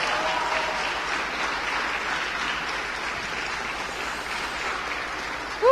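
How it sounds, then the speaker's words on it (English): An audience gives sustained applause for the winner of both races at the ROKiT Racing Star F4 esports grand final, a dense, steady clapping that holds evenly throughout with no talk. "Let's have another round of applause"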